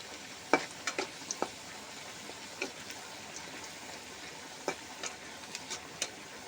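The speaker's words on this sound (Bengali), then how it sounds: "আমি একটু বাগার দিব, তাই পেঁয়াজ ভেজে নিচ্ছি, পেঁয়াজ রসুন ভেজে নিচ্ছি।" Onion and garlic fry gently in oil for a tempering, a soft steady sizzle broken by scattered crisp pops and spoon ticks, close but fairly quiet, with no voices.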